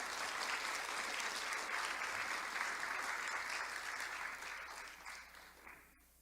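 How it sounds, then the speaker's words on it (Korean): An audience at a talk on mind study gives a round of encouraging applause, steady, fairly distant clapping from many hands that gradually thins and fades out over about six seconds. "떨리는 제 가슴이 진정될 수 있도록 격려의 박수를 다시 한번 부탁드리겠습니다."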